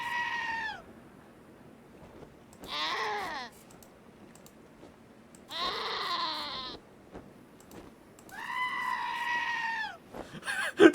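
In the video game Wasteland 2, a goat bleats loudly four times in long wavering cries separated by quiet pauses, with a brief louder noise at the very end.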